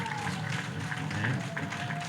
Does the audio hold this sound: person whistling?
no